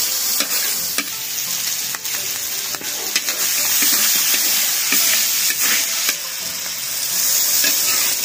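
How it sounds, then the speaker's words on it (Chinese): Chicken and river crabs being stir-fried in peanut oil with spices in a wok, a loud continuous sizzle broken by repeated scraping and clanking stirs of the spatula, close up and with no talking. "继续拌炒。"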